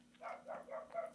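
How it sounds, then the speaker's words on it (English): Dogs barking outside at night, a quick run of four muffled barks in steady succession, faint and distant over a low background hum. "I apologize for the dogs in the background barking outside my office here."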